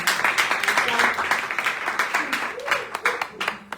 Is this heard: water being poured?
no